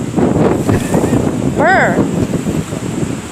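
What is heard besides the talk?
strong wind blowing on microphone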